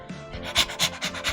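A dog in the Choices: Stories You Play game panting heavily at close range, a series of rapid breathy huffs in a steady rhythm with no talk over it.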